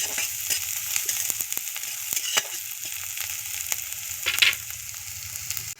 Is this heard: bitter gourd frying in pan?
yes